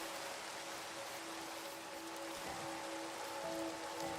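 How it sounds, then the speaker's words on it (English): Rain falls in the video game Minecraft as a soft, even hiss of drops that carries on steadily throughout, faint and unbroken, with a low tonal hum underneath and no speech. "there's the rain"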